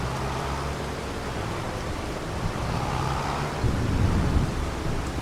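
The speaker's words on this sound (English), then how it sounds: "So I think the rain's about to stop." Steady heavy rain in the video game Farming Simulator 25 hisses evenly throughout, with a low rumbling undertone that swells slightly near the end.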